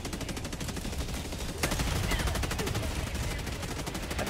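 Rapid bursts of automatic gunfire in the video game Helldivers 2 rattle continuously, dense and sharp, with a louder crack partway through.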